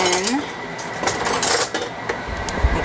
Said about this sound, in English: You just kind of whisk it in